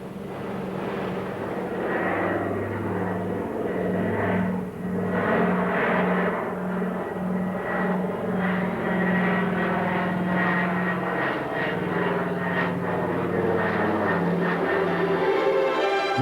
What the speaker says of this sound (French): notre vieux Catalina roule enfin. Le train rentre, le bout de piste approche et tout de suite, l'Atlantique